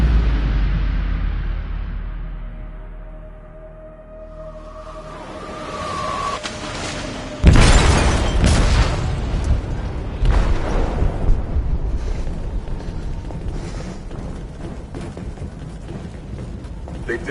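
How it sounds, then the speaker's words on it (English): A ship's hold blows up in Detroit Become Human as a sudden heavy blast rises from a low rumble, then gives way to a long roaring, churning wash of debris and water. "They detonated an explosive in the hold."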